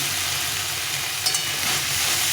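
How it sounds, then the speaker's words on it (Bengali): Chopped tomato with salt, frying in oil among vegetables for a fish curry with potato and cauliflower, giving a steady loud sizzle and hiss close up with no voices. "টমেটোটা সুন্দরভাবে ভাজা হয়ে যাবে"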